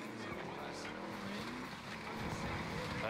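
Video game car pulling away with a steady engine roar and tyre noise, fairly loud and continuous, with voices talking over it.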